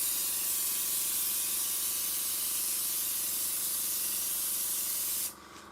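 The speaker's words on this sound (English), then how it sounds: "Just coming over the whole landscape with the airbrush gives it an overall shading that sort of blends everything in." An airbrush sprays paint over a model railway landscape in one continuous, close, even hiss that cuts off sharply near the end.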